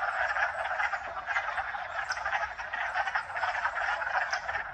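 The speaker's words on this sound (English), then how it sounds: "Hope you enjoyed the wood frog chorus." A dense chorus of wood frogs in a spring vernal pool, steady overlapping clucking croaks that fill the air continuously at moderate distance, with no voices.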